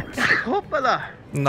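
A single sharp human sneeze, close and loud, during a Monster Hunter World gaming session, with a person speaking briefly right after it.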